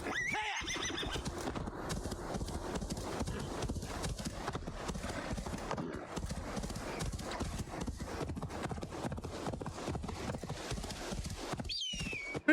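A horse gallops in Assassin's Creed Valhalla, its hooves drumming in a fast continuous clip-clop with a whinny near the start, heard close and steady over game ambience.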